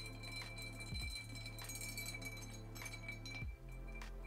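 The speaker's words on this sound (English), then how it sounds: "let's just give them a little stir" Aperitivo cocktails of sweet vermouth being stirred in glasses, with light glassy clinks and chinks at a steady, close, quiet level and no talking.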